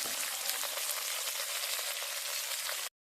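Soaked cashews and raisins frying in white oil in a pan, giving a steady, dense sizzle that holds evenly for about three seconds and then stops abruptly.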